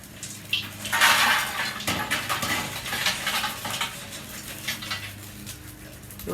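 Charcoal briquettes tipped from a chimney starter into a kettle grill, giving a bright scraping, clattering rush near the start followed by scattered rattles and settling clinks, close by with no talk.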